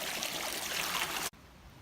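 Broadband rushing of a flowing stream on the Ozark Highlands Trail fills the clip, steady and fairly close, then cuts abruptly to a much quieter background.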